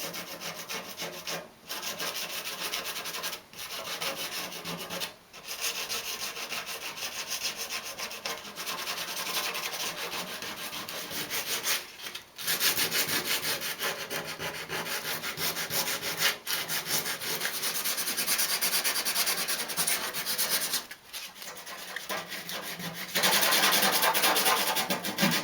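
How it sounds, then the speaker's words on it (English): Hand sanding with 80 grit sandpaper over a spray-painted hot rod door sign to age and scuff it, a close, steady raspy scrubbing in long strokes broken by a few brief pauses, with no talking. "So I just went over the whole thing with an 80 grit just to age it up a little bit, put some scratches and marks in."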